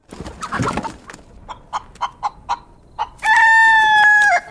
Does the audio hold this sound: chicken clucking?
yes